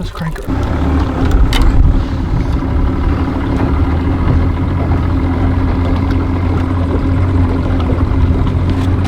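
Boat engine cranking on a river during a hunt for gar, turning over with a brief rough start, then settling into a steady, loud, low idle drone that runs unbroken to the end.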